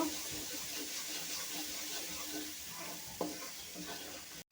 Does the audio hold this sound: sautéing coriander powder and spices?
yes